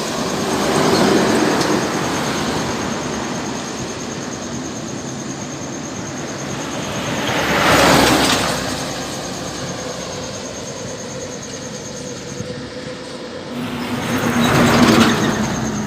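Kurnia bus passing on a road, a broad rumbling whoosh that swells around the middle and again near the end as vehicles go by, with steady traffic noise between and no talk.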